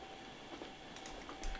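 A fast train rolls by in the railway simulation game Transport Fever 2, a steady low rumble with faint rhythmic clatter, heard quietly and without talk.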